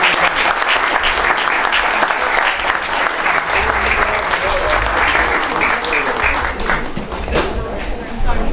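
Loud, sustained applause from a debate forum audience for Georgia State House candidates, dense clapping filling the whole stretch without a break.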